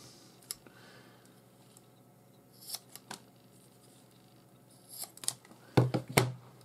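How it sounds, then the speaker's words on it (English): Scissors snip through excess nylon paracord at the edge of a finished bracelet, a few close, sharp clicks and cuts, with the loudest pair of snips near the end. "just grab you a pair of scissors and cut off the excess cord close to the edge of the bracelet"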